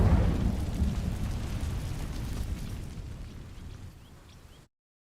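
An Incendio fire spell setting dry vines ablaze in Hogwarts Legacy: a loud burst of flame that opens with a whoosh, then a crackling roar that fades steadily over several seconds before cutting to silence.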